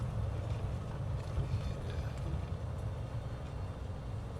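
Aircraft engine in the Flight Simulator video game, lowered in speed while taxiing to park, a steady low droning rumble with a broadband hiss and no talking.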